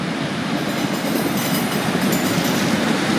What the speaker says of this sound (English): the next departure now is going to be 156404